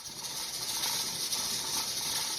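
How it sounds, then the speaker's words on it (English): Pressure canner full of jars, jiggler weight rocking on the vent while steam hisses steadily, a continuous bright hiss with faint rattling texture throughout, close and alone. "I've got the jiggler on, and it started jiggling."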